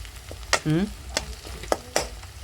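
Kanda pohe, flattened rice with onion, gets stirred in a hot pan with a spoon: a few sharp scrapes and taps against a soft sizzle over a couple of seconds, close by.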